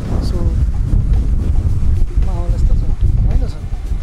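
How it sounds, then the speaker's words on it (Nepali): Strong wind buffets the microphone at Shuri Castle in Okinawa, a loud continuous rumbling gust over the whole stretch, with people talking over it. "सुन्दर हावा"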